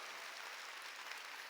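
A church congregation at a Wednesday worship service applauds to glorify God, a dense, steady wash of many hands clapping at once, even and sustained throughout with no voices rising above it.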